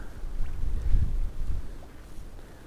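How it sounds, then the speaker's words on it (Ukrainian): Strong spring wind blows on a shore where someone is out spinning for fish, a low rumbling roar buffeting the microphone in gusts that swell and ease. "завжди дує дуже сильний вітер"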